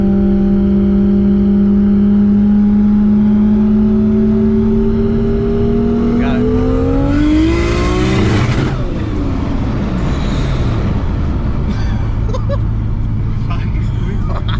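A 900 HP Nissan R32 Skyline GT-R revs loudly inside the cabin, its engine note climbing steeply through a gear, then breaking off with a roaring rush and continued engine noise. Voices talk faintly underneath.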